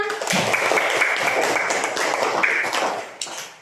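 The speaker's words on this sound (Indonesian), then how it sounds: "Tepuk tangan untuk anak-anak semua." A classroom of children and onlookers claps in a dense, continuous burst after group presentations, with a voice audible over the applause as it fades at the end.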